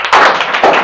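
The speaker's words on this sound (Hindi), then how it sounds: "तालियां बजाओ इनके लिए" A classroom of students gives a short burst of clapping, loud and close, with a brief flurry of hand claps in two quick waves.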